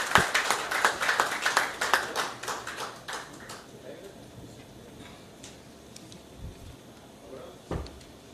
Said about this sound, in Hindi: तालियां बजाइए, तालियों की गड़गड़ाहट